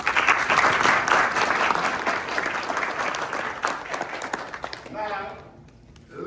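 Applause from a crowd at a lodge installation ceremony, dense clapping that fills most of the clip and then fades out near the end. A voice speaks at the close.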